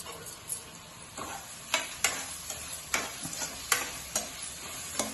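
Tomatoes sizzle in egg curry masala in a pan, a steady close frying hiss under scattered louder scrapes and taps of stirring.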